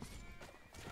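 A horse whinnies and its hooves clop in a multiplayer cavalry battle game, a brief, fairly quiet burst.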